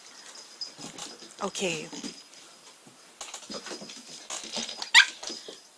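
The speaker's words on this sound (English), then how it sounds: "My puppy's going crazy." A puppy whimpers and gives short yips and barks in bursts, fairly close, mixed in with a person talking and some tapping.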